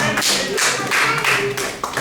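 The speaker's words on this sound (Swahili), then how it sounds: "Applaudissez le Seigneur." A church congregation claps during a sermon, with dense, continuous applause that is loud and close, its overlapping claps forming a steady roar for the whole stretch.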